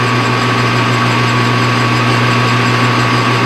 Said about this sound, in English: we're just going to face this off to clean it up.